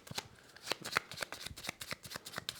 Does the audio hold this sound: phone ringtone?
no